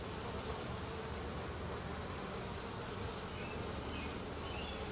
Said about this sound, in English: This is a 3-pound package of bees.